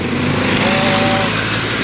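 Heavy vehicle engine on a city street in Attock, with a steady loud rumble and broadband road noise up close, consistent with a truck turning.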